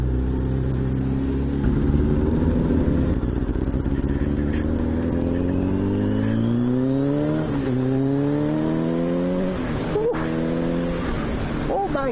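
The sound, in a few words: 1989 Kawasaki ZXR750 H1 motorcycle engine running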